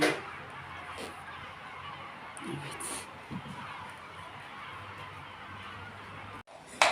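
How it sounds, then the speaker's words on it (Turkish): Birds call intermittently, with honking, goose-like cries over a faint outdoor background and a brief gap near the end. "Kuşların sesi."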